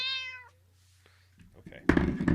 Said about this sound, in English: This is an unhappy cat.